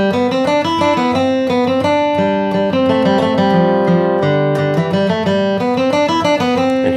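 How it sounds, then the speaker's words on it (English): Acoustic guitar flatpicking a bluegrass melody line, a bright run of quick, evenly picked single notes played clearly and alone. "you're going to replace that fourth bar melody line with one of these bluegrass licks"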